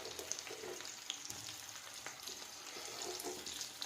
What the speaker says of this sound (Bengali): দুটো একটু ভেজে নিচ্ছি, তারপরে দিয়ে দিলাম পেঁয়াজ